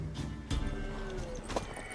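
In a video game, a mare's hooves clip-clop and she gives a short whinny, close and fairly loud over a low background.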